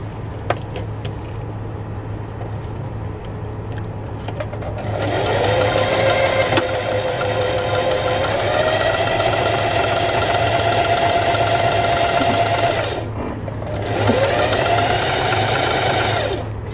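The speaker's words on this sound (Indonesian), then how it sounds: "Kemudian kita bisa menjahit lengkungan-lengkungannya." A sewing machine stitches the curved seams of a mermaid skirt, running in a long steady whirring burst, pausing briefly, then starting up again, close and loud over a low constant hum.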